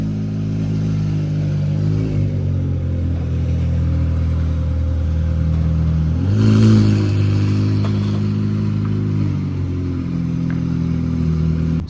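Senna GTR supercar engine idling while the car is driven inside a show hall, a deep steady rumble with a brief blip of revs in the middle before settling back, loud and near.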